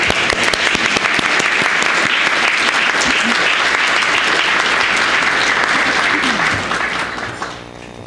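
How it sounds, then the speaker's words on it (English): A church congregation at a memorial service claps in loud, sustained, dense applause that fades away near the end. "I'm going to give you a clap"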